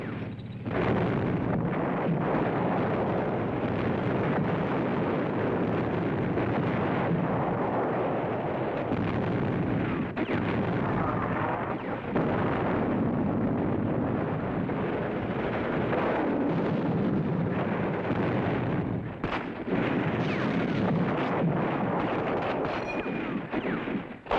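Peleliu battle sounds of Sherman tanks fighting light Japanese tanks: continuous rumbling explosions and gunfire form a dense, roaring wall of noise with scattered sharper blasts throughout.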